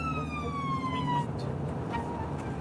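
An ambulance siren wails loudly and close by, its tone sliding steadily downward in a long sweep and then starting to repeat, with low vehicle rumble underneath and no talk.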